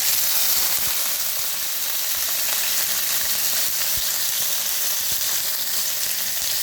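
Green chilies and curry leaves sizzle steadily in hot oil, a dense, continuous frying hiss with occasional small pops, close and alone without talk.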